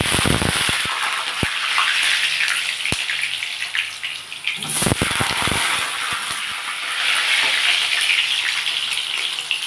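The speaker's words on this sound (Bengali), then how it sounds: "আমি এই তেলের মধ্যে আলুটা ভেজে নেব।" Potatoes frying in hot oil for a chicken curry, giving a loud, steady sizzle and crackle that fills the whole stretch, with a few sharp spatters and clinks near the middle.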